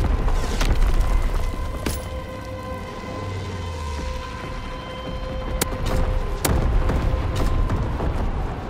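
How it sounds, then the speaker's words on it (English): Mortar rounds and bombing explosions in Call of Duty WWII thud and crack repeatedly over a rumbling low battlefield din, with several sharp near blasts and deep booms spaced a second or two apart. "Low altitude bombing run underway. Enemy mortar fire incoming."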